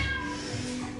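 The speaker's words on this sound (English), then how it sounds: "if you hear that, that's my cat meowing" A house cat meows softly in a room during a yoga session, a brief faint call over steady low background hum.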